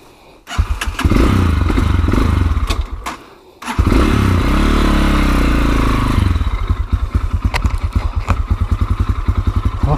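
A Chinese enduro motorcycle rides off-road along the Dniester river over sand and rock, its engine roaring loud and close, dropping briefly before revving up again, with rhythmic chugging and clattering as it bumps over the terrain.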